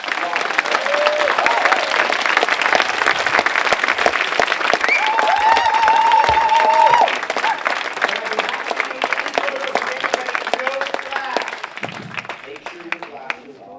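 A seminar crowd gives David Wolfe a warm, sustained round of applause, loud dense clapping throughout with scattered voices and a brief tonal sound midway, tapering toward the end.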